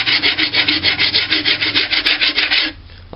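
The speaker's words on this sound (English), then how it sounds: "I'm trying to hold the file flat against this surface here and also at this surface here" A hand file rasps across Bondo body filler on an Iron Man helmet, a loud, close run of about fifteen rhythmic back-and-forth strokes that stops abruptly near the end.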